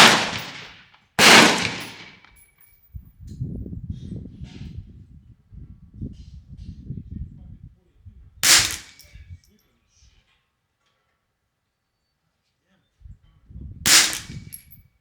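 A Ruger 10/22 rifle is test-fired with different ammo off a sandbag at 50 yards: three sharp, separate cracks several seconds apart, with someone speaking quietly between the shots.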